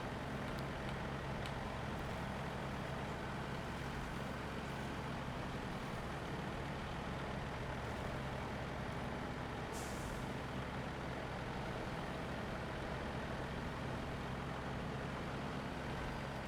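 A Paystar truck in SnowRunner grinds along under load while towing another truck, a steady loud low engine drone with a brief hiss partway through, no voices.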